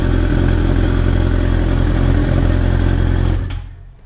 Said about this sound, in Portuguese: Olha o barulho. É claro que é a Bandit, né?